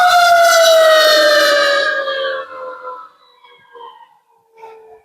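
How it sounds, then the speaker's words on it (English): An emergency vehicle siren wails loudly at first, then its falling tone fades away into the distance, leaving faint fragments of the siren trailing off. "sorry about the sirens, there's another one"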